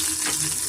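Small onions frying in oil for mutton sambar give a steady, close sizzle with a faint watery crackle, continuous and fairly loud with no voices over it.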